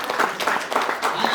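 Brief burst of church congregation clapping in praise during a worship service in Keningau, rhythmic claps with faint voices mixed under them.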